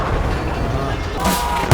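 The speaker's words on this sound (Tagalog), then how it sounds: "ang isa sa mga tangke ng Russia ay tinamaan ng isang RPG ng ISIS" An RPG strikes a Russian tank in a war film, with rumbling blasts and gunfire under a dense battle mix, ending in a sharp loud hit.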